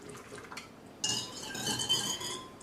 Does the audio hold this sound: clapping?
no